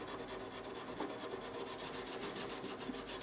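Steady rasping file strokes drawn across the frets of a 2005 Gibson Les Paul Limited Edition neck during fret leveling, a continuous close scraping with no voices.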